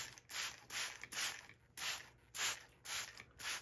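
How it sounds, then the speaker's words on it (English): Repeated short hisses of a spray bottle misting water onto a werewolf mask, about seven quick bursts in an uneven rhythm, close by and fairly quiet. "Now I'm gonna take my spray bottle here."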